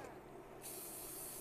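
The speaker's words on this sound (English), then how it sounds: "Coat of cooking spray." A short, steady hiss of a cooking spray can starts abruptly and continues close by in a kitchen.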